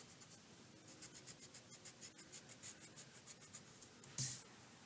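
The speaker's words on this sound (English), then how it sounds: "So instead, I'm going to make this line. Kind of focus on that. And then erase that." Pencil strokes scratch across paper in a quick regular rhythm, each stroke a short soft rasp, close and quiet, ending with a brief louder rub as a line is erased while drawing one-point perspective buildings.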